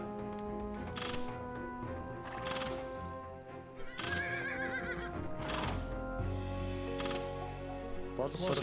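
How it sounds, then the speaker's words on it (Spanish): Horses neighing and whinnying in the strategy game Age of Empires 2, with several sharp whinnies standing out over clip-clop hoofbeats, game effects and voices talking through the clip. "sigo buscando algún caballo quizás que está dando vuelta"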